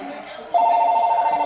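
A telephone rings with a sudden, loud, steady electronic tone that starts partway through and continues to the end, over a faint indoor background.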